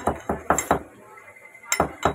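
Whole garam masala spices are crushed with a pestle in a home kitchen, making a quick run of hard clinking knocks, a brief pause, then two more close, sharp strikes.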